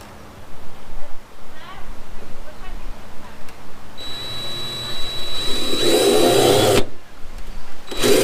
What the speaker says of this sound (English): I have a 3/16 drill bit on my drill